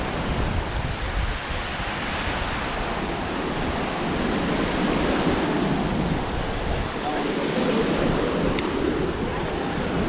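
Ocean surf rolls onto a beach in Cancun, a steady broadband wash of breaking waves with wind buffeting the microphone, loud and continuous for the whole stretch with no speech over it.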